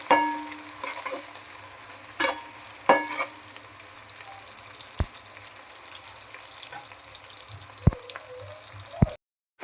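Onions and four green chillies fry in a pan toward brown, a low steady sizzle with a few louder scraping stirs and occasional sharp spoon taps, ending in brief silence.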